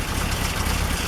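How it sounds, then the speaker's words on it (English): An old Ford engine idles smoothly and quietly with a steady low rumble, continuous and close, no voices. "Right now, sitting there idling, it runs about 40-45 pounds oil pressure."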